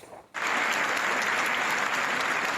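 An audience at the Palacongressi in Agrigento bursts into applause for Gino Cecchettin, a sudden dense, loud wall of clapping that starts abruptly and carries on evenly.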